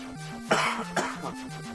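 Two or three short coughs from one person, close and fairly quiet, heard over a looping retro video game tune from Final Fantasy 1.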